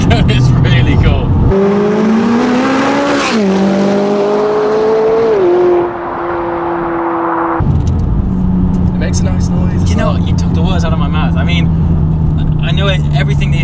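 A McLaren 570S turbocharged engine pulls hard, its pitch climbing through several gear changes before a loud, steady cruise drone continues under road noise.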